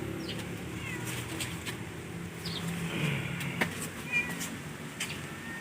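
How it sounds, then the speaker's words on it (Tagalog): A cat meows a few times amid outdoor ambience with distant birds chirping; no one speaks. "ito yung pusa natin"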